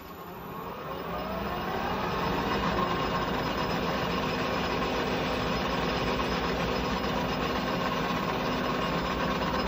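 A metal lathe hums steadily while putting a small chamfer on the end of a steel bar, a continuous machine drone that fades in and holds at an even level with no talking.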